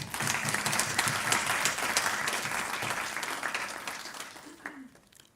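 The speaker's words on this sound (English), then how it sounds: "can you please help me give her another round of applause?" An audience at a university professorial inauguration gives a warm round of applause for the new professor's wife. Dense, lively clapping holds strong, then tapers off, with a faint voice near the end.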